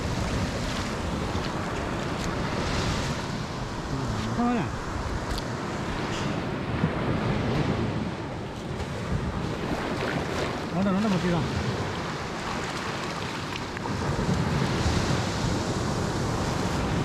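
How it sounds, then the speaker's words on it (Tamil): Ocean waves breaking on a beach at night during night fishing, a continuous rushing surge with wind buffeting the microphone, rising and falling in loudness with a few faint voices underneath. "அலை அலை பயங்கரமாக இருக்குங்க"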